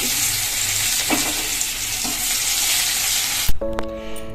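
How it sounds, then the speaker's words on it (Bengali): Sliced onions fry in hot oil with black cumin seeds in a home kitchen, a steady close sizzle with faint stirring, ending in a sudden metallic clatter followed by a ringing tone. "এখানে পেঁয়াজগুলো লাল লাল করে ভাজা হয়ে গেছে"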